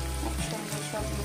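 Dumur teljhal, a fig curry, being stirred in a pan, with a soft sizzle and scraping over a steady low hum that briefly drops out midway.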